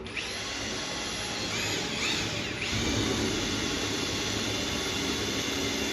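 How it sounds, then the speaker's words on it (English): A power drill whines steadily and close by, its pitch dipping briefly a few times as it bites into the metal of a 60-gallon air compressor tank, with no talking. "Drill a little bit of an angle."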